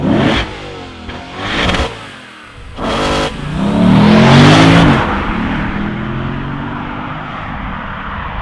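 A Lexus RC F Track Pack V8 revs loudly in three sharp blips, then climbs into a longer, rising roar that peaks and settles back into a steady, throbbing idle.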